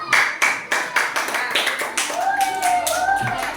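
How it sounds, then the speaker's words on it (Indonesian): Children in a classroom clap hands in a rhythmic pattern of sharp, close claps, with young voices chanting along over the later beats. "kita beri tepuk tangan"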